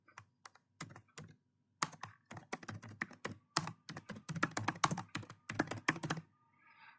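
Typing on a computer keyboard, a dense run of sharp clicking keystrokes in irregular bursts, close and clear, with no voices.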